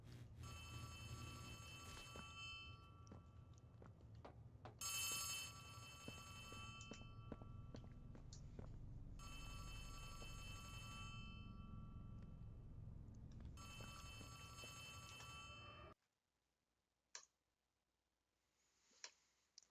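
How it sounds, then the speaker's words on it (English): A loud, bright electronic telephone ring in the horror video game Poppy Playtime, sounding in long repeated bursts over a steady hum before cutting off into near silence with a few faint clicks. "A phone?"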